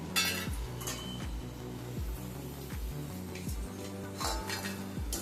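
Fried crispy chicken being lifted out of a pan, a series of regular metallic clinks and scrapes of a utensil against the pan, close and fairly soft, with faint sizzling beneath.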